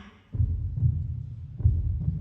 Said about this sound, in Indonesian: dengarkan detak jantung kita